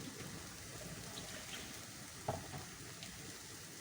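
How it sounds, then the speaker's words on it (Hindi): Rice pours into a hot pan for peri-peri chicken and rice, a faint continuous sizzle and rustle with one small clack partway through and no talking. "चावल इसमें चले गए।"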